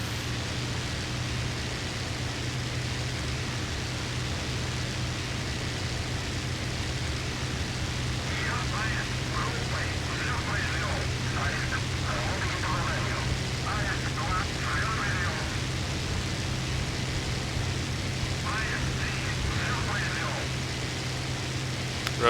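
An airplane in a flight simulator rolling for takeoff, a steady loud engine roar with a constant low hum throughout, while a voice speaks intermittently over it in the second half.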